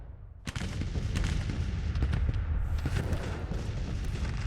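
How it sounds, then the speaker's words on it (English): Civil War cannon artillery fires in the Grand Tactician strategy game, a sudden booming salvo followed by a rapid, continuous rattle of overlapping blasts and musketry-like cracks, loud and dense throughout. "the cannons are firing into them"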